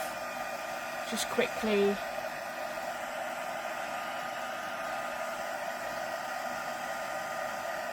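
A dryer drying ink on a mixed media card gives a steady, close whirring blow that runs unbroken from start to finish, with a brief spoken voice near the start.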